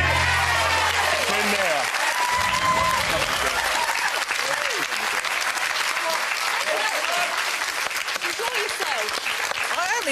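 Studio audience applause on the UK game show Deal or No Deal, loud and sustained across the whole stretch, with people talking over it and a brief musical sting near the start.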